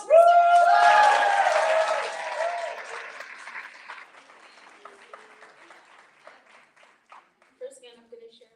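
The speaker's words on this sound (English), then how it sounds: "Round of applause for Sarah." Audience applause at a literary magazine issue launch event, loud and dense at first, then thinning over several seconds into scattered claps and faint voices near the end.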